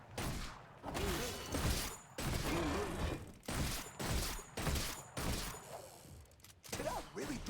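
Rapid bursts of gunfire from a default weapon in Orcs Must Die 3, fired in a string of loud, close volleys with brief gaps, set against busy game noise on the Lava Pits map.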